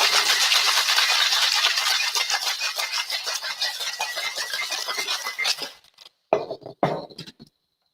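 Cocktail being shaken hard in a shaker: a dense, loud rattle of ice churning in rapid rhythm for several seconds, then stopping, followed by a few clinks and knocks.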